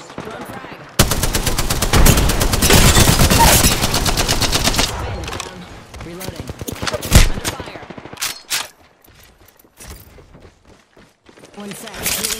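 Enemies fire on the player in Apex Legends, with a sustained, loud burst of rapid automatic gunfire followed by scattered single shots and sharp cracks that thin out into quieter movement sounds, with occasional game voices.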